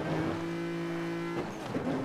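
A car engine in Need for Speed Most Wanted holds a steady, droning note for over a second, then drops off as the tone shifts, sounding fairly close with no talking.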